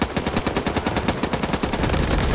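Rapid automatic gunfire from the video game Back 4 Blood, a dense continuous rattle of shots filling the whole stretch, loud and close with no pauses.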